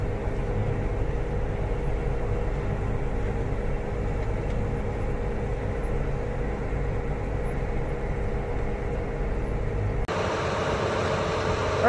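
A tractor pulling a rake for corn fodder idles and runs in a steady, low diesel drone that holds constant, then shifts in tone near the end.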